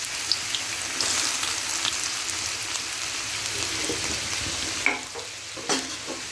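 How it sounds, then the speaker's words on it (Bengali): Chopped onions sizzle steadily in hot oil in a pan for a fish bhuna, a dense continuous crackle with a few sharper spits and scraping stirs near the end, close and fairly loud with no talking. "এখন আমি কিছু পেঁয়াজ কুচি দিয়ে দিলাম।"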